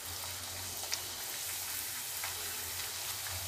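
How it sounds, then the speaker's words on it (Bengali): Luchi flatbreads, rolled from plain atta dough, deep-fry in hot oil with a quiet, continuous crackling sizzle and scattered soft pops, fairly faint and steady throughout. "আমি লুচি বেলে এই যে টপাটপ ভেজে নিচ্ছি।"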